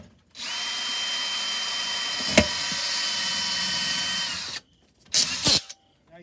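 A drill with a small 1/8 inch bit bores a hole into a Torqueflite transmission case, whining steadily and loudly for about four seconds, then stopping, followed by two short bursts of drilling.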